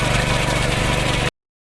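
A tractor engine runs steadily and loudly while ploughing a rice paddy in Kumbhavade, Rajapur, a close, continuous rumble that cuts off abruptly partway through.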